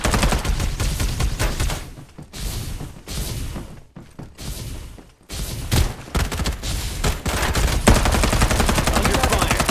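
Dense gunfire from a team deathmatch in the video game Farlight 84, with rapid automatic bursts and overlapping shots running loud and nearly continuous, broken by a few brief lulls.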